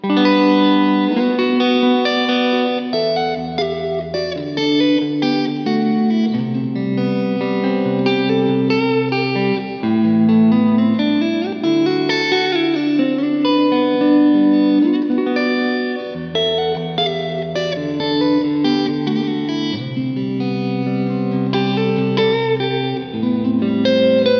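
A PRS electric guitar with its pickup split to single-coil mode plays sustained chords and melodic lines through chorus, distortion and reverb effects, loud and continuous with no talking.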